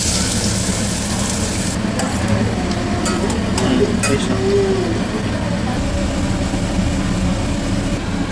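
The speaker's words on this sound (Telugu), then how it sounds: "ఇప్పుడు ఒక ప్యాన్లో ఆయిల్ వేసుకొని ముల్లంగి వేసుకుని తర్వాత అవి గోల్డెన్ కలర్ వచ్చే వరకు కలుపుతూ" Radish frying in oil in a pan while being stirred, a steady close sizzle with faint scraping throughout.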